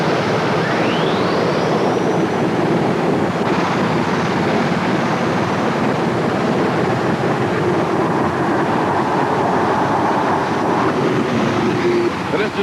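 Continuous heavy engine roar and turbo whine from a pulling tractor building boost during a 1991 NTPA pull in Canfield, Ohio, loud and sustained with a faint announcer voice underneath.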